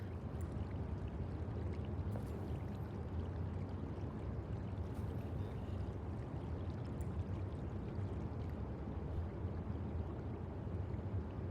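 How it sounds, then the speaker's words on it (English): Constant rushing water of a waterfall in the video game Wuthering Waves, a steady broadband roar that fills the background evenly with no talk over it. "Man, what the hell is this background sound, bro? Is it waterfall or something?"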